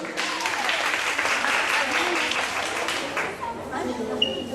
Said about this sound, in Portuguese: Palmas para a Raíssa.